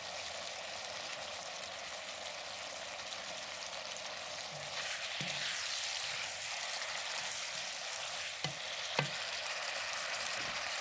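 Celery and carrots stir-frying in a pan for shrimp curry, a continuous soft sizzle that grows a little louder midway, with a few sharp utensil clinks near the end.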